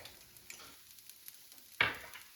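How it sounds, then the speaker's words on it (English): Minced garlic going into a frying pan for Chinese eggplant gives a quiet, faint crackle of scattered ticks, then one sudden burst of sizzle that slowly fades. "now I'm going to add minced garlic"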